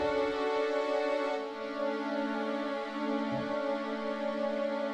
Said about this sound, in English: I just layered some strings.